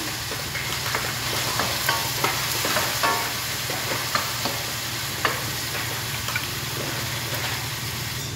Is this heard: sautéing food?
yes